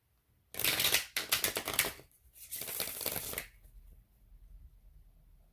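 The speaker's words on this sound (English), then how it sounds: "let's shuffle these cards again" Playing cards riffle and flutter in two quick shuffles, close and crisp, followed by faint handling noise.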